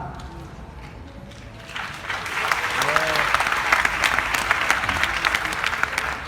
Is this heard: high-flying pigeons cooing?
no